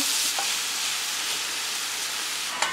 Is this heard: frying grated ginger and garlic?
yes